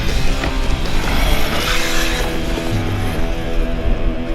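An Arrma Big Rock 1/7 scale RC monster truck, running on 4S power while being bashed, holds full throttle in a loud, continuous high-pitched motor whine with tire and gravel noise, heard close and steady throughout.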